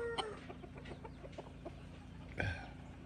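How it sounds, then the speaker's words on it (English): Chickens cluck in short, soft bursts at a rural homestead, with one louder squawk standing out near the end over a steady low background hum. "Oh, chickens."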